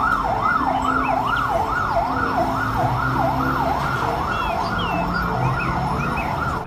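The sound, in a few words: toy fire truck siren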